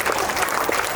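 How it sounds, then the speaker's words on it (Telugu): Audience clapping with both hands during a devotional dance at a Sri Sitarama Kalyana Mahotsavam celebration, a dense, steady wash of applause from many people filling the whole moment without pause. "చక్కగా రెండు చేతులతో చప్పట్లు కొట్టాలి."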